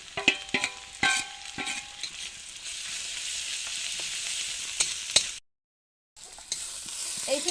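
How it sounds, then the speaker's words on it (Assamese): Onions fry in a pan with ginger, garlic, cumin, turmeric and chili powder, giving a steady close sizzle broken by sharp scrapes and clicks of a stirring utensil. The sound drops out briefly, then resumes, with no talking. "এইখিনি মোৰ মছলাখিনি ভাজা হৈছে"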